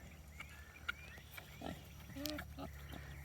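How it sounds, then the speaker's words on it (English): Pigs on a farm grunting in hot weather, several short low snorts and grunts scattered across a steady background hum, fairly close, with no talk over them. "And the pigs right here, they're trying to beat the heat."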